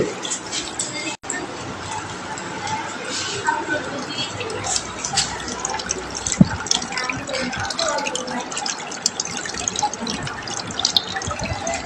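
Water poured from a bucket onto a burn as first aid makes a continuous splashing, trickling stream, close and fairly loud, while people talk over it throughout.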